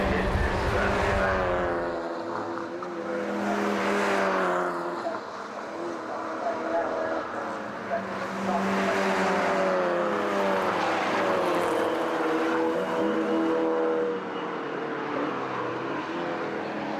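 First-generation Mazda MX5 race cars roaring around the Brands Hatch circuit in a 2012 championship race, engine notes rising and falling as cars pass, with a commentator talking over them throughout.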